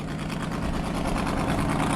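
A 462 Chevy engine in a limited modified 6,000-pound class tractor-pulling truck roars steadily and loud, a continuous low rumble with no pauses and no talk.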